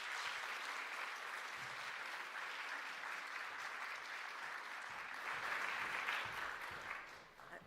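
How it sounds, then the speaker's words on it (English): A conference audience gives a sustained, even round of applause for the panelists, the clapping rolling steadily and swelling slightly near the end before tapering. "Let's give a huge round of applause."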